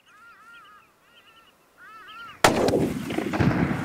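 A single sharp, loud hunting rifle shot fired at big game cracks out after a quiet pause filled with honking calls, followed by a ringing echo.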